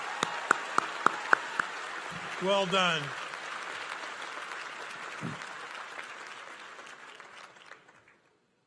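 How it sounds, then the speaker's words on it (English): A commencement audience breaks into a short round of applause, fading steadily away, while a voice speaks briefly over the clapping. "Let's give Tess and Tiffany another round of applause."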